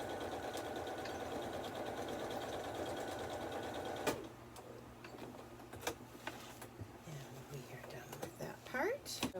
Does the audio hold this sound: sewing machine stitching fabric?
yes